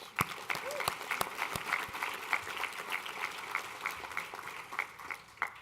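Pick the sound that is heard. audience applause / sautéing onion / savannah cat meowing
audience applause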